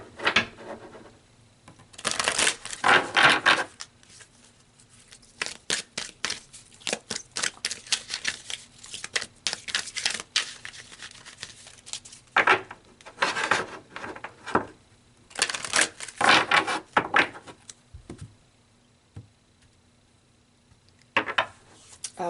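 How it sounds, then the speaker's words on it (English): Tarot cards are shuffled and pulled in a quiet room, with bursts of crisp riffling and sliding card noise separated by pauses of near silence. "So let's pull some more cards."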